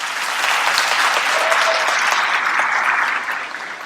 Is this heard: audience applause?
yes